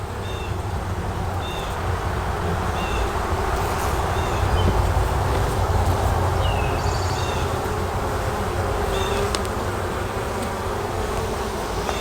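Honeybees buzz around opened hive frames during an outdoor hive inspection, a dense, continuous droning hum close by with occasional louder bees passing near.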